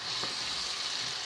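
Broad beans frying in a pan over medium heat, giving a steady close-up sizzle with no voices.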